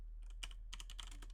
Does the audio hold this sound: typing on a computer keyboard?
yes